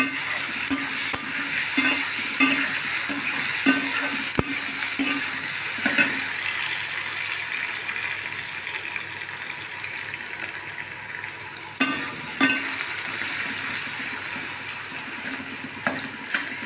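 Mushrooms and onions sizzle steadily in a hot pan with intermittent stirring and scraping sounds, no voices.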